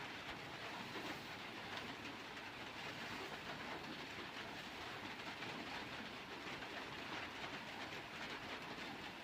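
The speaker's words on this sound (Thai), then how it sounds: "เสียงฝนตก" Steady rain falls outdoors as a continuous, even hiss that stays faint and unbroken, with no voices.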